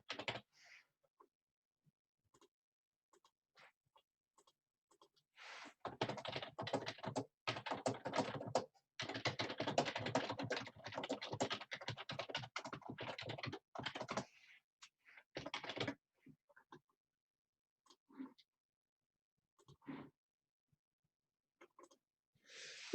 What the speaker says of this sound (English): I just gotta type something here real quick.